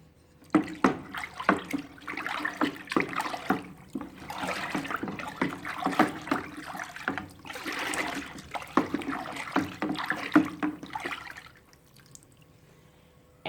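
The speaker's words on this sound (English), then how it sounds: "Now we will use the wooden spoon to mix the whole thing." A wooden spoon stirs homemade liquid hand sanitizer in a container, producing sloshing, dripping, splashing liquid sounds in irregular strokes, close and moderately loud, fading to quiet near the end.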